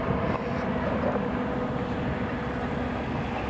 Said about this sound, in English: here's the Emirates coming in, folks